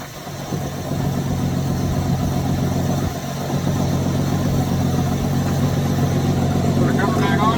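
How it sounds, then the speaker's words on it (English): An engine idles steadily and close by, not pushed to full throttle, with a continuous rumbling drone and one brief dip partway through. "Not going full throttle with this engine anyway, so."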